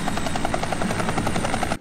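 A loud helicopter close by, its rotor blades thumping in a rapid, even chop throughout before cutting off abruptly.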